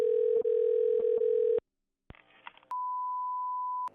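A telephone line gives a steady dial tone, then after a brief silence and some clicks a single continuous ringback-style tone sounds while calling a coin shop.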